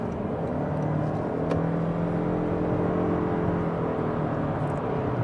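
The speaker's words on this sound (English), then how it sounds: "Well, you do have that CVT, and you hear that droning." A Toyota Crown Limited hybrid with a CVT and 236 horsepower cruises a highway in traffic, its steady low droning engine note and whirring tones holding constant beneath continuous road and wind noise, with no voices.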